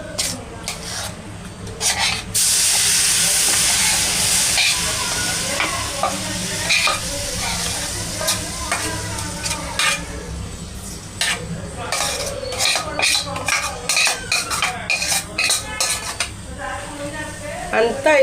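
Palm fruit rotti batter hits hot oil in a thick pan with a loud sizzle, followed by repeated scraping and clattering of a spatula spreading it against the metal, brief voices heard now and then.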